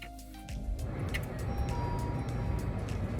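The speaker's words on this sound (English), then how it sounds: "I'm about to start the car" A car engine cranks and catches at about half a second, then settles into a steady, close low rumble that continues to the end with no one talking.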